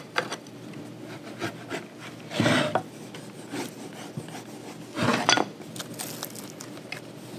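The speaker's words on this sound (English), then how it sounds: "And I'll use my rub stick and just be sure that it's glued down in there really well." A rub stick presses glued leather down over the seat strainer of a saddle. It makes a close, dry, continuous scraping, with two louder, heavier rubbing strokes.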